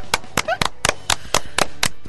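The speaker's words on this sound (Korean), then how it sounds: "기립박수 중입니다." A crowd gives a standing ovation at the birthday celebration of the Korean media cooperative Kukmin TV and Kukmin Radio. Sharp, close claps land in a steady, regular rhythm, as if clapping in unison.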